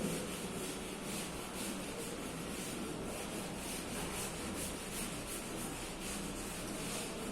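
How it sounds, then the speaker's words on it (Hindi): A duster rubs chalk construction lines off a board during a maths lesson, steady close scrubbing strokes with no talk. "हमने कंस्ट्रक्शन को भी रब कर देता हूं"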